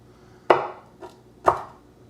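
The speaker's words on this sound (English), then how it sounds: "let's use my knife skills here to not cut my fingers off." A knife chops dandelion roots into slices on a cutting board, two sharp, close chops about a second apart with a lighter tap between them, in a quiet room.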